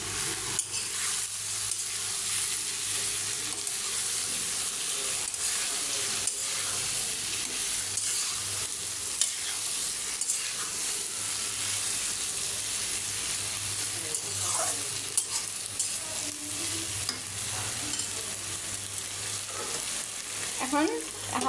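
Sweet pumpkin pieces frying in a pan, a continuous sizzle with scraping and stirring strokes from a spatula, close and steady, with occasional faint background voices.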